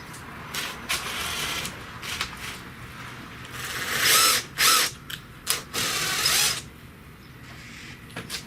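A wire brush scrubs a car battery terminal on a 2010 Nissan Altima in a shop, giving loud, close, raspy bristle strokes in uneven bursts, with several longer scrubbing passes in the middle.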